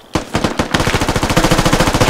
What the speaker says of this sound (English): I'm running out of ammo for the MG.